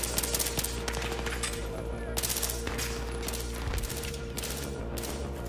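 Battlefield 3 gunfire rattles in continuous rapid bursts, a dense crackling fusillade running throughout at moderate level, layered over a steady low game drone.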